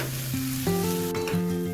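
Aubergine bharta with chopped coriander sizzles and crackles steadily in a hot pan while it is stirred, with soft scraping over background music.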